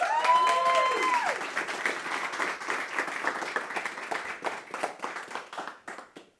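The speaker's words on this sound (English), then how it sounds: "let's introduce and give a round of applause to Abel Garcia" An audience at a monthly meeting applauding to welcome the speaker Abel Garcia: a brief tonal sound at the start, then steady clapping from a modest crowd that gradually fades out.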